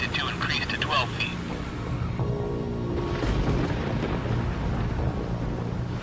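A storm at sea with strong wind gusts roars in a dense, steady rumble of wind and crashing water, loud and continuous throughout.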